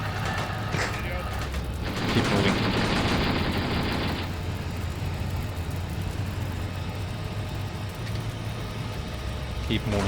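A T-62 tank's gun and machine guns fire in Steel Armor: Blaze of War, set in Afghanistan, with a loud burst lasting a couple of seconds over a steady engine rumble and a voice speaking.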